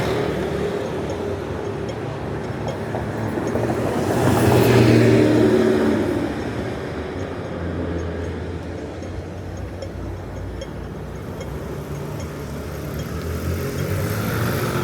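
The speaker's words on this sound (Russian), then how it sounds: "Слышь, как гудит. Нифига двигатель не тянет." A car engine hums steadily nearby in Hong Kong, swelling into a louder, strained roar for a couple of seconds before settling back to a drone.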